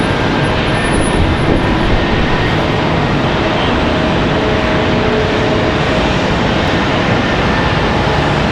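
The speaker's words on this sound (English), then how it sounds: "American Airlines at 749 coming in from Madrid." An American Airlines airliner arriving from Madrid at Charlotte Douglas airport roars past with a loud, continuous jet engine rush that holds steady and close throughout, with no talking.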